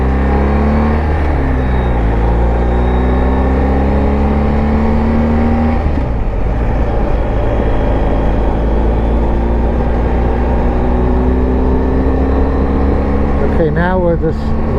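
A BMW R1250 GSA motorcycle rides along back country roads, its engine a loud, steady drone close up with constant wind rush, the pitch shifting as it changes speed around the middle.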